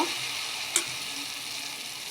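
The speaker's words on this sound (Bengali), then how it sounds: "আমি মালপোগুলো একে একে ভেজে নেব" Malpua pancakes made with mango rabri batter frying in hot oil, a steady soft sizzle and hiss with one brief sharper pop near the start.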